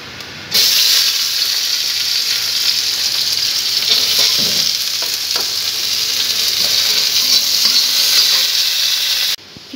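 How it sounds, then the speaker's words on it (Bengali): Onions frying in oil in a wok, a steady close sizzle and hiss running nearly the whole time, with faint stirring clicks underneath and no voices. "পেঁয়াজটা ভেজে নিই।"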